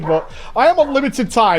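An excited pet dog named Ben yips and barks in short, loud bursts that crowd a man's speech nearby.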